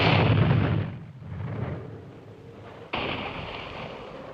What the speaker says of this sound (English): Our mortar has hit their mines